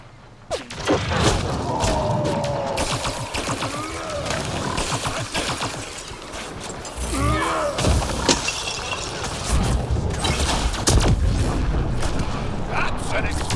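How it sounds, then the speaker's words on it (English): In the video game Mass Effect Andromeda, a dense burst of explosion booms and heavy thuds rumbles through busy game noise, with voices talking over the action. "That's an explosion."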